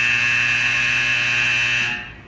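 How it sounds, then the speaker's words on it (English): A fire alarm buzzes during a Cold War nuclear missile launch, one loud, steady, piercing electronic tone that holds for about two seconds and then cuts off, with no talking. "All your fire alarms are going up"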